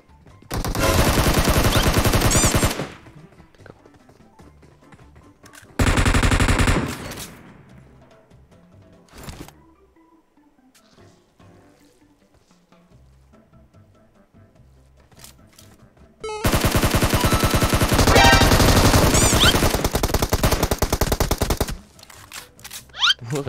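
Machine gun fire from a mobile shooter video game, loud sustained bursts around a second of quiet, a longer volley near the end, no talk.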